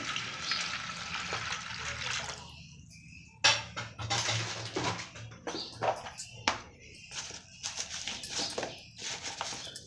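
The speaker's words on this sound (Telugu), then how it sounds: "వాటర్ వేసేసుకుంటామండి" Water pours steadily into a pot of soaked lentils with green chillies, chilli powder, onion and turmeric for a cucumber tomato dal, a close rushing stream for about two and a half seconds, followed by scattered knocks and clatter.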